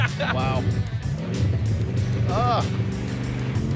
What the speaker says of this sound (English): I feel kind of self-conscious about the misfire.